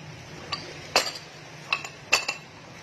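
Metal pots being handled during cleaning, with four or five sharp clinks and clanks spaced about half a second apart, close and fairly faint over a quiet background.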